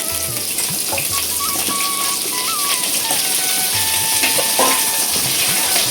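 Potato and pumpkin pieces fry in a pan with a steady, even sizzle that runs throughout, along with faint clinks of a utensil against the pan.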